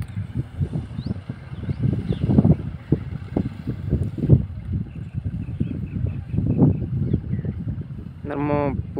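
A Mahindra 265 tractor drives a rear-mounted spray motor and gun in a cotton field, giving a steady, rough engine rumble with wind buffeting the microphone throughout.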